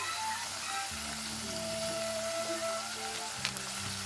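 Spices and green chilies sizzle steadily in a pan for a dhaba-style green peas paneer butter masala curry, a continuous close frying hiss with faint stirring.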